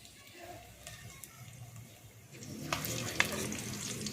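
Sweet potato pantua balls frying in oil until red-brown, a soft steady sizzle that grows louder and busier in the second half with a few sharp crackles.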